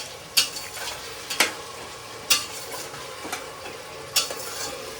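Onion fries over a high gas flame with a low sizzle, punctuated by a handful of sharp spatula scrapes and stirs against the pan, close and clear with no talking.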